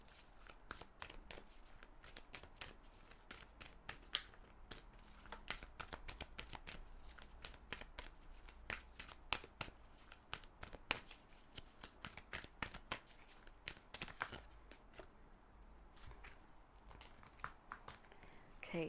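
Tarot cards being shuffled by hand, a long run of quick papery riffles and slaps in irregular bursts, close and quiet with no talk.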